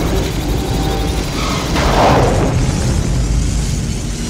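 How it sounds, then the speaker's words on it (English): A Star Trek Enterprise photon torpedo launch and explosion effect from the film, a dense, loud rumbling whoosh with a swelling burst near the middle, sustained over a heavy mechanical background. "that's the only time the Enterprise fires a weapon in the whole film"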